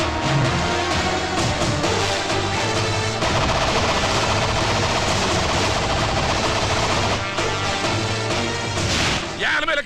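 Dense, continuous crackling bursts of firecrackers going off loudly and close at a fireworks-making town, a chaotic rattle of pops filling the whole stretch with voices mixed in.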